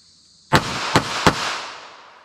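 Three sharp .380 pistol shots fired during a ballistic test, one loud report followed by two more at short intervals, each trailing off into a fading echo.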